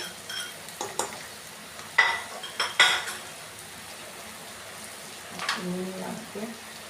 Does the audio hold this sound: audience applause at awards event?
no